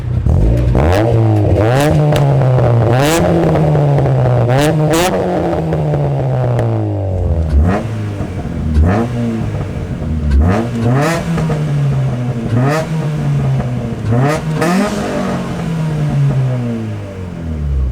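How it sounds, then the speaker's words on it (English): A Honda CRX's VTEC engine revs hard repeatedly, rising and falling in several sharp bursts with crackling exhaust between pulls, loud and close. "I'll do you a couple of cheeky exhaust revs so you can hear what she sounds like."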